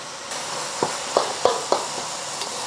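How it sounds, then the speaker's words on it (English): Meat sears in a hot pan with a steady hiss and sizzle, broken by several sharp pops and crackles at close range, no talking. "Let it sear for another minute on the other side."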